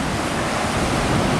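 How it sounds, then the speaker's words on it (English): Loud, continuous roar of rough sea surf crashing on the beach at Alicante, Spain, broad and rushing, with wind mixed in and no voices. "The sea looks pretty rough indeed"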